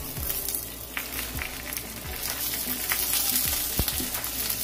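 Garlic cloves fry in a pan with a steady, dense sizzle and crackle, close and fairly loud, with occasional faint clinks throughout and no voices.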